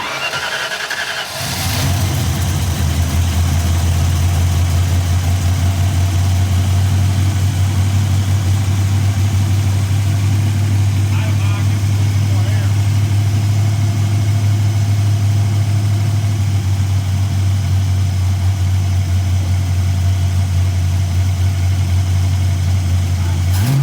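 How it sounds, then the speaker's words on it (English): A carbureted car engine cranks briefly and catches, then settles into a loud, steady low idle that runs close by without a break for the remaining twenty seconds or so. "We're just gonna see if it'll start."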